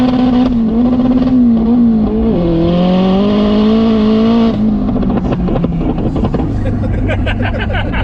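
A turbocharged 550 bhp Renault Clio engine revs and holds a high, droning pitch, then drops back and burbles unevenly, loud and close throughout.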